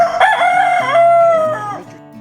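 A rooster at a petting zoo crows a loud, close cock-a-doodle-doo, a single drawn-out call with a rising start and a long wavering tail, heard alone.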